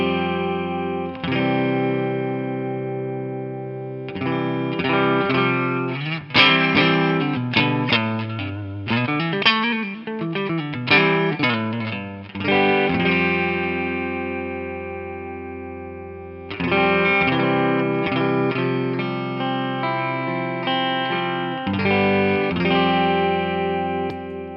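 An electric guitar plays through a Bogner Harlow overdrive pedal set to a medium overdrive, with loud, sustained, distorted chords and single notes ringing out, then a brief pause before the strumming resumes.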